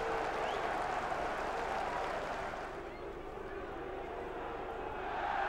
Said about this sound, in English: Howson's apologetic celebration met by applause from all 4 stands at Elland Road